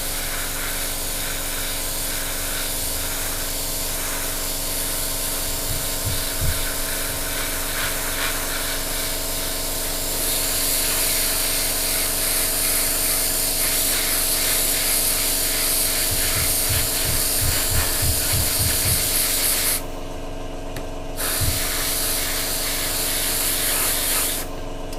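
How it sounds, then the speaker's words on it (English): An airbrush sprays a fine paint mist onto a Tamiya 1/48 P-47D or P-51D model aircraft in a natural-metal finish, giving a steady close hiss for the full length with brief interruptions and soft low clicks, and no speech. "we're just going to mist this on to start with. It's going to be a bit speckly."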